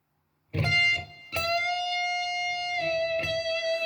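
A distorted electric guitar note is struck, then a semitone string bend rises slightly in pitch and sustains, with a later re-pick, loud and alone.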